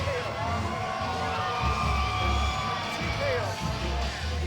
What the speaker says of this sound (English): the crowd here at the Fontainebleau, Las Vegas loved it